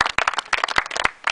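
A small audience at a Panathinaikos youth academy award ceremony for the 2005 age group gives sparse, uneven applause, with a few nearby hands clapping in quick bursts that thin out and stop.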